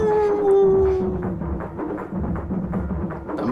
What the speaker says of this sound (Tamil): ஊரத்துல ஒரு நாய்.